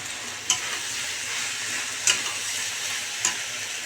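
Chicken pakoras fry in hot oil with a steady sizzling hiss, broken by three sharp utensil clicks against the pan.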